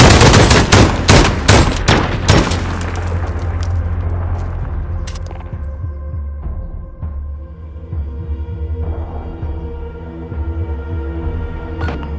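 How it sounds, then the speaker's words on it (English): Rapid bursts of gunfire in Call of Duty: Modern Warfare crack loudly at first, then thin out into scattered shots over a lingering low rumble and tonal hum. "Gunfire."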